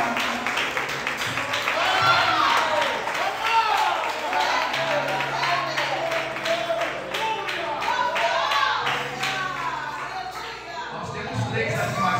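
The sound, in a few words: church congregation clapping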